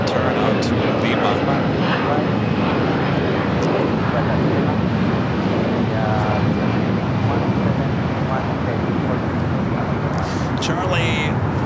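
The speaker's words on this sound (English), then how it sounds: "Asiana 8380, flight 204, making that left-hand turn out to Lima." Asiana airliner departing LAX and banking left toward Lima, a continuous broadband jet roar under light chatter and background voices, steady and moderately loud throughout.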